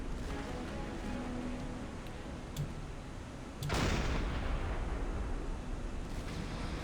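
Naval shells strike a ship's deck in the submarine game Silent Hunter 5: a steady low rumble of battle, then one sudden heavy blast that leaves a louder roar hanging after it, with no voices.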